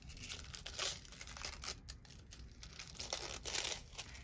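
Red foil sheet peeled off foiled die cut pieces, a quiet close crinkling and tearing rustle in uneven bursts, with no voices.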